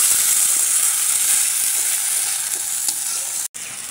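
Ginger, garlic, cumin and onion paste frying with onions in a pan for a sea rita fish curry, giving a steady close hiss and sizzle with faint stirring scrapes, continuous throughout with a brief dropout near the end.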